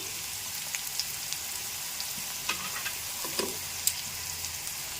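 Garlic frying in oil in a pan for bitter gourd curry, a soft steady sizzle and crackle with scattered small pops and occasional stirring clicks, close and fairly quiet with no talking.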